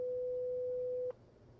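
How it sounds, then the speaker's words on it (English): A pure 500 hertz sine wave plays as a smooth, steady, moderately loud tone for about one second, then stops abruptly, leaving quiet room noise. "This is a 500 hertz sine wave."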